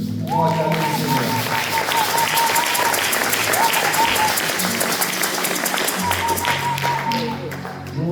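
A church congregation applauds loudly and steadily, dense clapping filling the space while voices call out and sing over it, easing off slightly toward the end.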